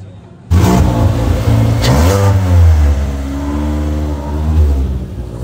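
Car engine revving and accelerating hard on a tire test drive, a loud close mid-pitched roar rising in steps through gear changes, then settling into a steady drone.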